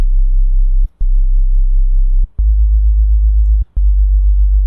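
A synthesized sub bass built from layered, detuned sine waves in a chill drum and bass loop, four sustained deep tones with a slight pitch change midway and brief silent gaps between notes, loud and alone.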